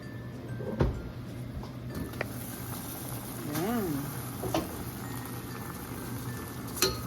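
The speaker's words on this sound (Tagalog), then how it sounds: "Ngayon sobrang kulo na siya, pwede na natin siyang buksan." A pot of fish paksiw with vegetables bubbles vigorously with a steady rolling hiss, a few clinks of a lid or utensil and a brief voice rising over the boil.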